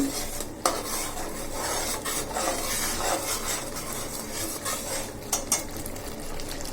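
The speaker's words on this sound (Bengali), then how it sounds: "সবজির মশলাগুলো ভালোভাবে কষিয়ে নিচ্ছি" Vegetable spices being stir-fried in a pan for a Bengali dish, a utensil scraping and clinking steadily against the metal with a soft sizzle underneath and a few sharper knocks.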